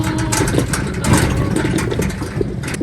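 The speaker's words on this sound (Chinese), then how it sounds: "我是骑着三轮车去的" A small motor tricycle engine runs steadily nearby with a rough, rattling drone, no pauses throughout.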